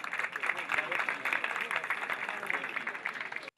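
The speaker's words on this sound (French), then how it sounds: "Acclamation, s'il vous plaît." Steady applause from a crowd at a school sports awards ceremony in Côte d'Ivoire, a continuous mid-level patter of many hands that cuts off abruptly at the end.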